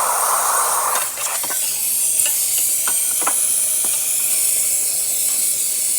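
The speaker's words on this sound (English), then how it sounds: "Great steam coming out of the machine." Steady, bright hiss of steam blasting from the wand of a serviced Jura Impressa S7 coffee machine, loud and continuous throughout with a few faint clicks and gurgles, no talking.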